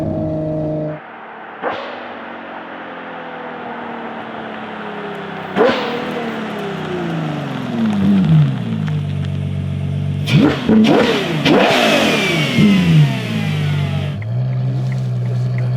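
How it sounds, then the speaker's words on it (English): A Novitec-tuned Ferrari Purosangue V12 revs hard and close, with repeated sharp blips that fall away in long descending sweeps, then a loud, rough climb near the end before settling to a steady idle. "I don't have any words to describe you the feeling if you do a downshift in a Ferrari V12"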